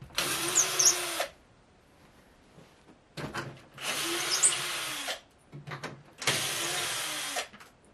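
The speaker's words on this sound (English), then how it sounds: "CNC milling the holes makes them super precise, more precise than I could do by hand" A CNC machine mills mounting holes for a power strip on a flight sim yoke part, giving three separate bursts of loud, steady high-pitched cutting and whirring with quiet pauses between them.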